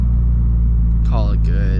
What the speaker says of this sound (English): Little e-brake pull, get the car to do like a full rotation